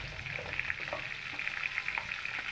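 Potato pieces frying in oil with a little salt and turmeric while preparing Bengali mutton kasha, a soft, steady crackle and sizzle with faint stirring clinks, fairly quiet and unaccompanied.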